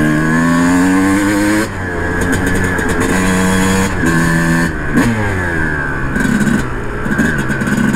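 A 2007 Suzuki RM 250 motocross bike's two-stroke engine revs hard while being ridden, rising and falling through repeated throttle bursts, loud and close with no voices.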